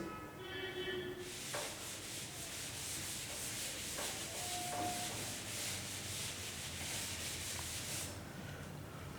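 Chalk or marker is being rubbed off a classroom board during a physics lesson, a steady broadband scrubbing that runs close and continuous for most of the clip, with a few faint knocks beneath.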